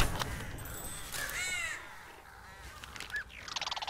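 Crows caw repeatedly in the video game Tearaway Unfolded, harsh calls rising over a busy game soundscape with music and effects, ending in a quick series of rhythmic pulses.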